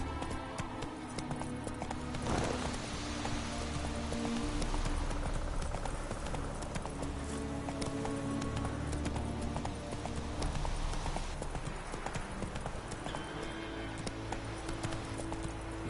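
Horse hooves galloping steadily in The Witcher video game, a continuous clip-clop rhythm over ambient game sound, with a rider urging the horse on briefly.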